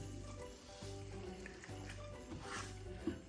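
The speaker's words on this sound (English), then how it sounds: "I'm just giving the sauces a quick stir." Sauces being stirred in a pan while frying and sizzling during home meal prep, a steady close simmer with soft scraping strokes repeating every second or so.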